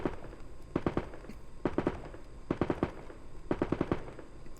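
Machine gun fire in the war game Frontline Logistics comes in three or four tight bursts of rapid sharp shots, fairly close and crisp, with short pauses between volleys.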